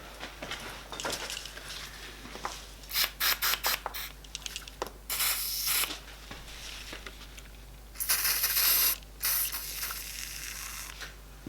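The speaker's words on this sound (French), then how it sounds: "On va mettre un peu de WD-40 dans les trous." Short hissing bursts of WD-40 sprayed into holes on a Peugeot 406 DW12 engine during cylinder head removal, several close spurts of varying length with faint handling noises between them.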